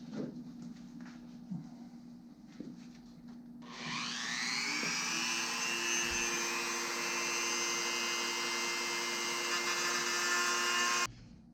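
A high-speed rotary tool spins up and grinds steadily to clean up cut lines on a motorcycle fork tube cover, a loud whining buzz lasting about seven seconds before it stops abruptly.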